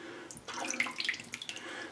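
Water dribbles into a shaving bowl in small splashes and drips, close and irregular, after a brief quiet start.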